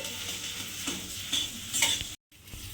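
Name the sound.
grated potato being stirred and fried in a pan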